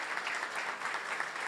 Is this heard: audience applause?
yes